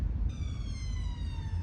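An ambulance siren at Hyde Park Corner in London sounds as a steady wailing tone over loud low traffic rumble and wind, heard from a distance.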